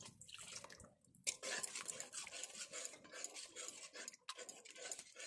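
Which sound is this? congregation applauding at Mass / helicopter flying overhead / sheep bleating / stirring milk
stirring milk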